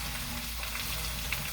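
Potatoes fry and are stirred in a pan, giving a steady close sizzle with faint scraping, with no talking.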